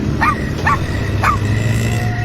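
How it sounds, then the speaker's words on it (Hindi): A small stray puppy near a garbage bin at night gives three short, high yips less than a second apart, fairly close, over a steady low background hum. "पिल्ले की कूकू की लगातार आती आवाज"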